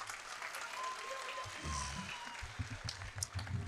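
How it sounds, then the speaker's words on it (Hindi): Applause from a poetry gathering audience rises midway through, a dense patter of many clapping hands over faint background murmur. "एक बार सारे लोग तालियां बजा दीजिए"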